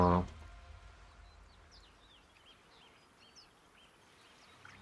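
Birdsong in the fantasy game Baldur's Gate 3 comes as faint, high chirps and short whistled calls scattered across a quiet outdoor ambience, after a brief loud thump at the start and under occasional soft speech.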